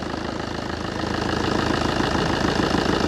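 A Tata Indica Vista diesel engine idles close by with a steady rhythmic clatter and low throb, growing slightly louder partway through, with no voices.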